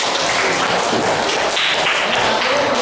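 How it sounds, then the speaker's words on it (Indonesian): Applause for a student group after their presentation in a school physics class on material elasticity, a steady wash of hand clapping from the classroom that continues loud and even throughout with no speech over it. "Dia tepuk tangan untuk kelompok"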